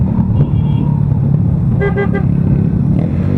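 Road traffic rumbles steadily in a jam, and a car horn toots a few quick honks partway through, fairly close and loud.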